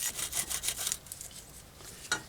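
A brush scrubs rear brake caliper clips on a 2004 Toyota Avalon, the rough bristle strokes sounding in quick rhythmic bursts that then fade into a quieter pause before one last scrape.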